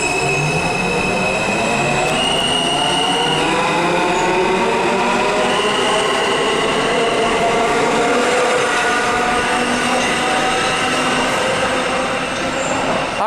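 A New York City subway M train rolls by loudly and steadily for the whole stretch, with a continuous roar, screeching wheel squeal and metallic rail noise close at hand.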